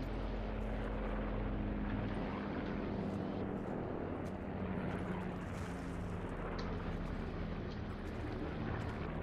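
Airplane engine droning overhead in Call of Duty Blackout, a loud, continuous low roar with a steady hum, with speech faintly underneath.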